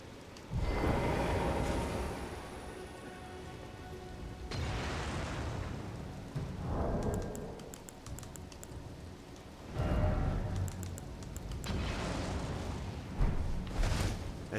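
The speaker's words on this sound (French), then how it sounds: "Il y a même Jojo là-bas qui fait des feux d'artifice" Distant fireworks in Elden Ring thump and crackle in bursts, with loud swells and fizzing pops coming and going, and no talking.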